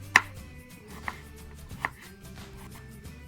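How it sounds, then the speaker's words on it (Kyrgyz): A knife chops carrots on a board with three crisp, separate strikes spread over a few seconds, close and fairly quiet over a faint kitchen hum. "Сабизди да турайбыз."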